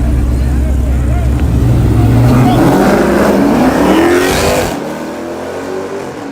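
A loud truck engine at a street drag race revs up and roars, pitch climbing as it races away, then drops off abruptly to a quieter rumble.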